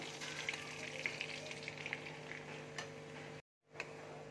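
Gram flour (besan) frying in melted ghee over a low flame for laddus, a faint, soft, steady sizzle with light ticking scrapes of stirring, brief silence near the end.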